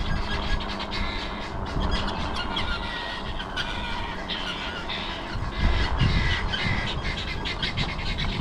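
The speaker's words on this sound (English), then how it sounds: "Helmeted guinea fowl up here." Helmeted guinea fowl give harsh, repeated squawking calls outdoors along the road to Ancient Salamis, a dense rattling chorus with a low rumble underneath.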